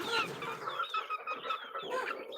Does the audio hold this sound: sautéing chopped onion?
no